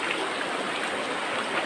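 River water flowing steadily near a village, a continuous broadband rush with no pauses and no voices.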